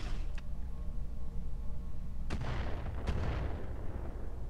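Mortar fire in the mech combat game Roguetech: two sharp, heavy blasts roughly a second apart, each rolling off into a rumbling decay, over a steady low drone with no talking.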